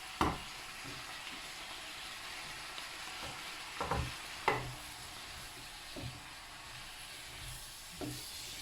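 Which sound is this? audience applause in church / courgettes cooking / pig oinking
courgettes cooking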